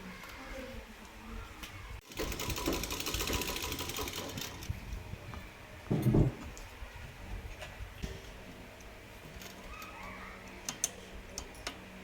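A sewing machine stitches a seam on a pair of pants: a fast, loud whirring run of a couple of seconds, then quieter ticking and handling noises, with a voice faintly in the background.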